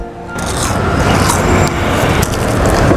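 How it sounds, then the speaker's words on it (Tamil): Close, continuous crackly crunching as someone bites into fried popcorn chicken from a roadside fried-chicken stall in Pondicherry. The dense crunch fills the whole moment, with no talking. "சாப்பிடும்போது அந்த கிரன்ச்சினஸ் நல்லா தெரியும். சவுண்டு கேட்குதான் பாருங்க மைக்கில்."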